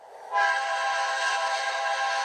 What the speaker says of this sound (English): that's my new horn on the train.